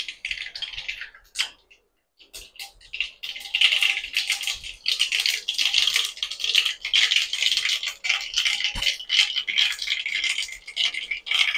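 Mustard seeds splutter in hot oil while potato poriyal is cooked: a few scattered pops at first, then dense, continuous crackling and sizzling close up.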